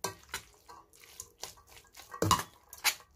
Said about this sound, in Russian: И все тщательно перемешиваем.